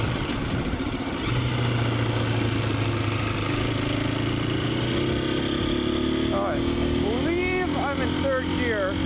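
Husqvarna FE350S motorcycle engine while riding, a close buzzing drone that climbs in pitch with throttle and gear changes, sharp rev blips near the end, under wind noise.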